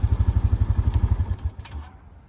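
A 2023 Honda Rancher ES ATV engine putters right after an upshift, a close rhythmic low thumping of rapid even pulses that fades and drops away after about a second and a half, with no talk.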